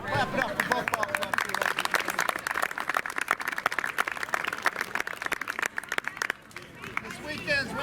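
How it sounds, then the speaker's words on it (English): Crowd applause and cheering for both ball clubs after a baseball tournament game, steady clapping with loud chatter and an announcer's voice over it. "Clap it up for both ball clubs."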